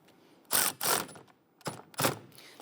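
Ratchet tightening the wiper arm nut on a Jeep Grand Cherokee, two pairs of short clicking bursts close up in a quiet room, no voices.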